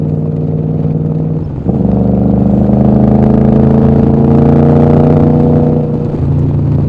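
An abandoned car with aftermarket exhaust pipes, left unused for over a year, idles and then accelerates. The engine hum rises to a sustained loud drone and settles back down, heard close with no talk.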